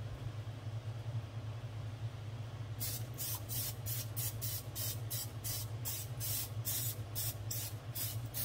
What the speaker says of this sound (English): I'm going to spray the pan first.